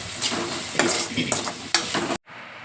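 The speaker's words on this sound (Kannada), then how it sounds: "ಈರುಳ್ಳಿ ಎಲ್ಲ ಎಣ್ಣೆಯಲ್ಲಿ ಚೆನ್ನಾಗಿ ಬದು ಫ್ರೈ ಆಗಬೇಕು" Onions frying in oil for lemon rice, a continuous close sizzle with rhythmic spatula scrapes against the pan, cutting off abruptly near the end.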